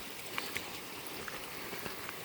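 Water running along a flooded stretch of the Appalachian Trail in spring, a steady broadband rush of flowing stream with small splashy details throughout, fairly close and continuous, with no talk.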